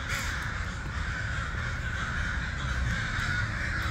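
Several crows caw harshly and continuously as they mob an eagle that has caught one of them, a steady, dense clamour of calls at moderate distance with no talk.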